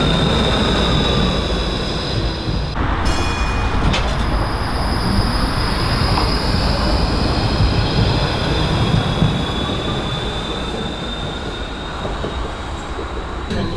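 A tram pulls in at a stop in Ostrava, a loud, steady rumble of rail wheels with brief squeals and hiss, the noise staying close and continuous throughout.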